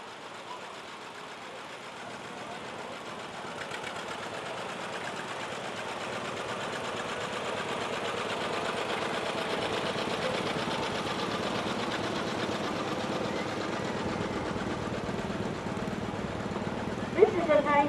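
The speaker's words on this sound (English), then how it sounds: "This purring John Deere is a 1952 model" A 1952 John Deere 50 tractor at an antique machinery parade chugs steadily with a low engine drone that builds gradually, joined by a sharp clatter near the end.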